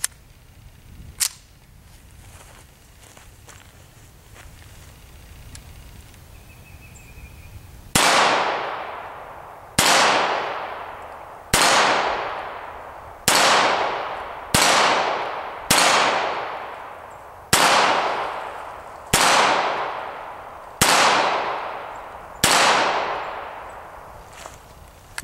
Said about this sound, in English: We're gonna take a few shots at them there